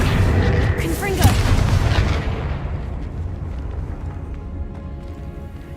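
A single heavy Confringo blasting-spell explosion in the video game Hogwarts Legacy hits loud and close at the start, then its rumble trails off into a low fading tail.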